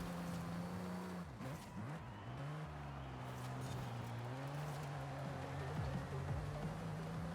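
Engine note of a heavy car driving in the racing game Forza Horizon 5, a 450hp spec-series build, holding a steady drone with pitch dips and rises as it shifts and corners, continuous and close.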